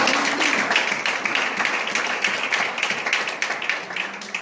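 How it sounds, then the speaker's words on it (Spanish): Applause from a church congregation during a Spanish-language sermon, a steady wash of overlapping hand claps with sharper individual claps standing out, moderately loud and continuous throughout. "Denle un fuerte aplauso al Señor."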